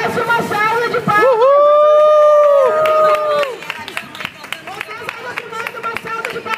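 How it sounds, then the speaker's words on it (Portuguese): Street audience in Lapa, Rio de Janeiro, clapping and cheering for a young woman named Fernanda, dense applause rising under a loud sustained voice, then thinning to scattered claps and crowd noise. "A Fernanda merece uma salva de palmas!"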